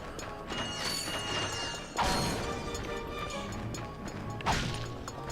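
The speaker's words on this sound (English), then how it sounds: "You can smash this for some extra bolts" In the PS3 game Ratchet & Clank, breakable objects are smashed for bolts, with two sharp crashing impacts amid clattering mechanical, ratchet-like game effects over a busy backdrop.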